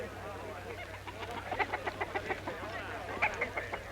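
A rooster clucks in a rapid run of short, pulsing notes, close by, over a low background hum.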